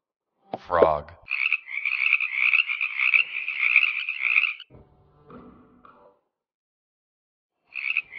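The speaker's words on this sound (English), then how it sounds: "Frog." Frog croaks in a children's forest-animals puzzle game: a short bright call, then a sustained raspy croaking trill for about three seconds, a quieter rattle, and another croak burst at the end, alone and clear.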